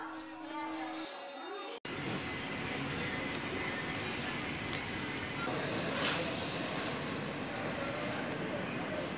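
A train passing through Muri Junction railway station, heard from on board: loud, continuous wheel roar and squealing rail noise after a short quieter start, with distant voices faintly underneath.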